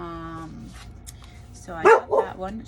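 A pet dog barks twice in quick succession close by in a home, the sharp yips coming just after a brief remark from a person speaking indoors.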